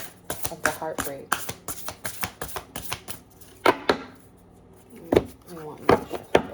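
Tarot cards being shuffled up close, a quick run of crisp riffling snaps followed by a few separate slaps and taps.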